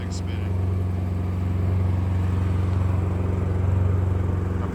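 A vehicle engine idles in neutral while warming its oil, producing a steady, close, low rumble with a faint rhythmic pulse that holds constant throughout.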